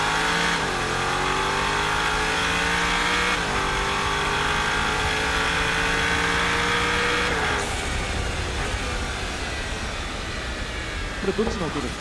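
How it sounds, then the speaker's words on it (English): A Toyota GR GT sports car engine revs loudly and steadily, its pitch climbing in stages with gear-like shifts before easing off into a lower rumble. "Have you heard the engine sound already, everyone?"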